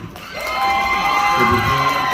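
A crowd at a toothpaste promotional event cheers, whoops and shouts for a Thai singer from The Voice Season 4, swelling loudly within a fraction of a second and holding steady and dense.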